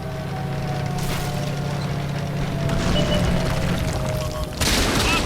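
Tank cannon fire and battle noise from a German VK 16.02 Leopard light tank match in World of Tanks, with heavy booms and crackling blasts over a steady engine drone, the loudest burst near the end.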